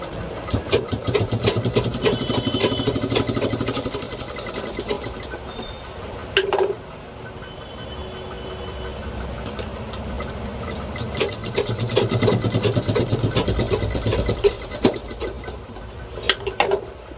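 A sewing machine stitches through very thick fabric with a steady, fast mechanical whirring and rapid needle clatter. It runs close and fairly loud, with a short pause midway before stitching resumes.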